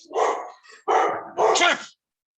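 Three loud, close barks from a pet dog called Chippy, coming in quick succession indoors and then cutting off into silence.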